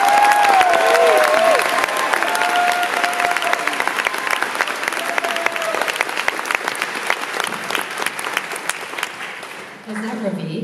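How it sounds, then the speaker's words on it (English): Sustained applause from a presentation audience, dense steady clapping filling the room for about ten seconds, with some crowd noise and a voice speaking over it near the start. "Thank you for applauding."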